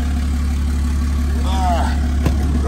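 A truck engine idles with a steady low rumble, close and constant, while a voice speaks briefly over it and a short click sounds near the end.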